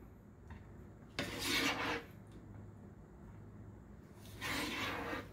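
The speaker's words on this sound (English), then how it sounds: "we're going to go ahead and scoop this mixture into this casserole dish" Two bursts of scraping and scooping as shepherd's pie mixture is spooned into a casserole dish, each lasting under a second amid quiet kitchen background.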